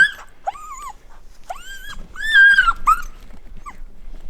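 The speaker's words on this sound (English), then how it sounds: "The dogs are really eager to get going." Dogs whimpering and yelping in high, whiny bursts, with a low growl mixed in, close by and restless, eager to set off.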